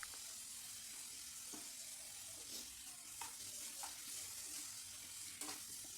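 Pumpkin soup ingredients with salt and turmeric are stirred lightly in a pan, giving a faint, steady sizzle with occasional soft scrapes and taps.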